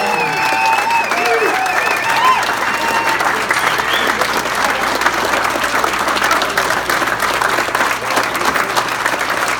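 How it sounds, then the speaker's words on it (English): Loud, sustained applause fills the room at a retirement party, dense clapping from a crowd with faint cheering and some whistles, continuous for the whole stretch. "So come on, make that applause loud."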